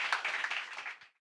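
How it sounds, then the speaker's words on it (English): Applause from attendees at a HATCH Pitch 2020 event at Capital Factory in Austin, Texas: a short, fairly faint burst of clapping from a small group that stops abruptly after about a second. "Round of applause for all the discussion."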